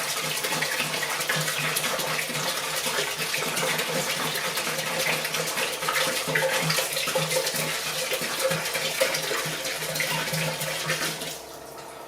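Vodka pours steadily into a container over leftover mulberry scraps, a continuous close liquid gush lasting several seconds before easing off near the end.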